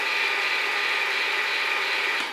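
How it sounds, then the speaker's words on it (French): A 1988 toy pinball machine's motor gives a steady, loud mechanical whirring rattle with a ratcheting, gear-like texture that runs unbroken and close by. "Et les moteurs des jouets, c'était vraiment pas discret hein."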